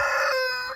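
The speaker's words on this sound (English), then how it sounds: "I don't really give my chickens treats" Backyard laying hens give one brief, close, ringing call that fades away, with no talk.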